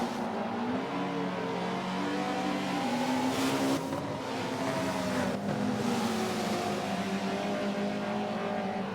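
Race cars at Laguna Seca's Corkscrew, running side by side and heavy braking, give a loud continuous engine drone with shifting revs and brief surges as they brake and accelerate, no voices.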